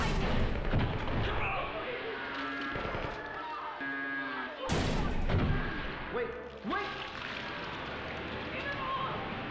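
Gunfire from a video game booms out under loud, steady talk, with a heavy blast near the middle and a few more thuds of shooting scattered through a busy mix of voices and game noise.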